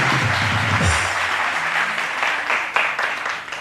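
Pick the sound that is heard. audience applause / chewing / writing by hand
audience applause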